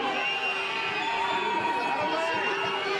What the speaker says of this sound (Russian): Болельщики требуют, видимо, желтой карточки.